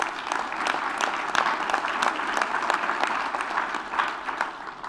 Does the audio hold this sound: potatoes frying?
no